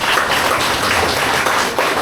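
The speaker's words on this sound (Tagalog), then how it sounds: "Pumalakpak kay Lord." A church congregation claps together in a sustained burst of dense, loud applause lasting the whole moment, with no voices standing out above it.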